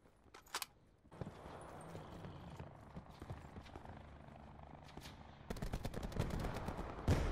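Bursts of rapid gunfire crackle through a busy Black Ops 4 Blackout game soundscape, with a loud burst near the start and a denser volley of shots toward the end.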